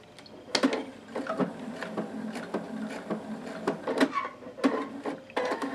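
Sewing machine backstitching a quilt seam on a diamond star block, with short bursts of clattering stitches broken by clicks and pauses, close and fairly loud.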